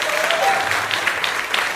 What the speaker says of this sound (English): So for all the viewers, we just want to give you guys an applause.